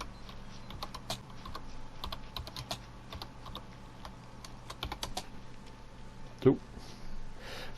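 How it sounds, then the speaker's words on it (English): Someone types on a computer keyboard in a steady run of close, crisp key clicks, followed by a single louder clack near the end. "Sorry, typing and walking does not work very well."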